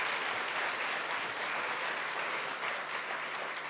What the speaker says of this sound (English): Can we give Joey a round of applause again once more